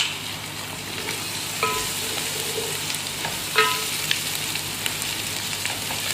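Onion, garlic and ginger sizzle in hot oil in a pot while being stirred, producing a continuous close frying hiss with a few sharp clinks of a utensil against the pot.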